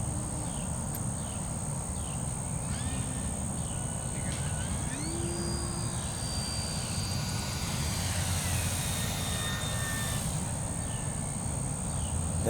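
Small RC model bush plane in flight, its high propeller whine rising and falling as it passes, with insects chirping steadily in the background.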